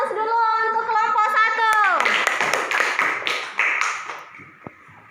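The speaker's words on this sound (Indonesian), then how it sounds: "Aplaus dulu untuk kelompok" Scattered hand claps from a classroom group after a presentation, several quick taps close by, starting right after a voice speaks and tapering off into a few final claps.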